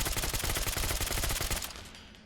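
Rapid automatic gunfire in the Fallout: London video game, a fast even burst of shots lasting about a second and a half before fading into a short echoing tail, with no talk.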